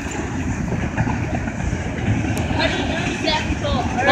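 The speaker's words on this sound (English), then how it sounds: "Wow, this is actually kind of a long train." A long freight train rolls past nearby with a steady rumble and rhythmic clatter of cars on the rails, while someone talks over it.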